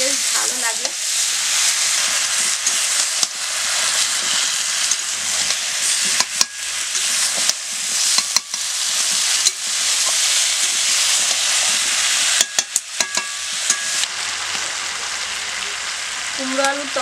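Pumpkin and potato curry stir-fries on low heat with a continuous crackling sizzle. Scattered scraping knocks from stirring break through the sizzle, and no voice is heard.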